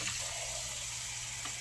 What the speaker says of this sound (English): Now, I got to fill this up with water.